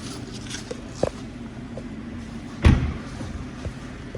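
A door thuds shut on a BMW 430i M Sport coupe as someone gets out, one solid slam near the middle, with a lighter knock and soft footsteps before it against a low background hum.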